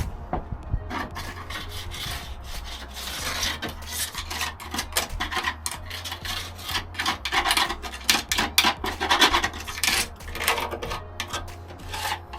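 Surface rust is scrubbed off the metal of a VW Caddy van, a close, continuous rasping and rubbing in quick irregular strokes. It is fairly loud throughout, with no talking.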